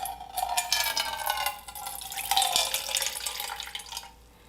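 Liquid drained off grated potatoes for latkes pours and splashes into a sink or container, a close, steady trickle with dripping that tapers off at the end.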